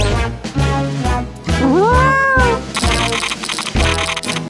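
A cat meows once in a drawn-out, rising and falling call, set in a pretend veterinary play scene amid other busy sounds.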